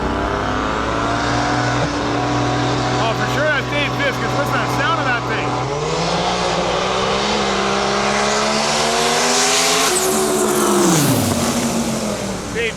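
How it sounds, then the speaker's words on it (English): A Fox body drag car with a Grand National turbo V6 makes a qualifying run, a loud raspy engine rising in pitch through gear changes, with a brief drop and surge near the end, under an announcer's commentary. "what it sounded like is it's got a V6, like it's got like a Grand National turbo motor in it"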